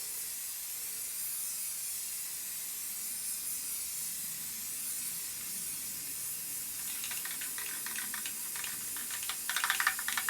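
An aerosol spray can lays down a heavy coat of spray dip, giving a steady, soft hiss that runs without a break, with faint clicks and rattles near the end.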